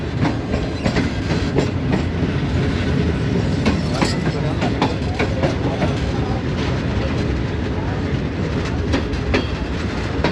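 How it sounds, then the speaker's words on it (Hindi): The Green Line express rolls on rails approaching Khanewal Junction, a loud, continuous rumble with rhythmic clickety-clack of wheels over track joints, heard close from inside the train. "5 up green line Khanewal junction railway station पे अप्रोच कर रही है"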